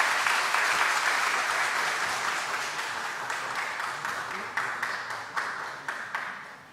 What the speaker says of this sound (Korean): 자, 우리 박수 한번 해주십시다.